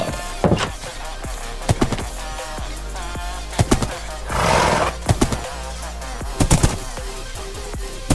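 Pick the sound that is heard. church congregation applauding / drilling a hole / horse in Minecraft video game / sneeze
horse in Minecraft video game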